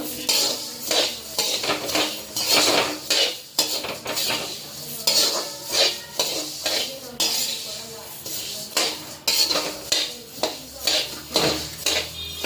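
Dry coriander seeds being roasted in a pan, with a spoon stirring and scraping against the metal in a steady, repeated rhythm, close and fairly loud, with a faint hiss of toasting underneath.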